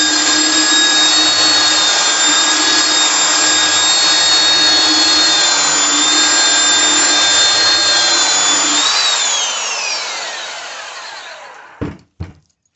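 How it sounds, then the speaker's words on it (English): Belt sander working on a wooden light post, a loud, steady high whine with a constant grinding drone that holds for about nine seconds, then winds down and stops, followed by a couple of sharp knocks. "I've got all four sides sanded down with a belt sander."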